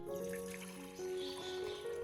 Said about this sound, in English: Add 1 liter of filtered water to the container.